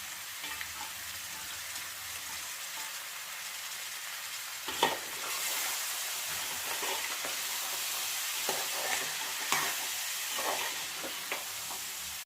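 Cauliflower fries in a pan with ginger garlic paste and turmeric, giving a soft, steady sizzle and hiss, with a few louder stirring scrapes scattered throughout, close but fairly quiet.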